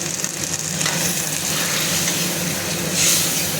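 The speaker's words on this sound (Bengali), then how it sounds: "এবারে জল দিয়ে পরিমাণ মতো একটু মাখা মাখা জল হবে" Taro curry sizzles and fries steadily in a pan as water goes in, a continuous close hiss and crackle with a brief louder surge near the end, no voices.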